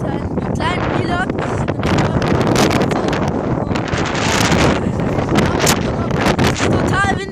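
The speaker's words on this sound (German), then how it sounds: "Es ist total windig hier." Strong outdoor wind buffeting the microphone, loud constant rumble and roar throughout, with people talking over it.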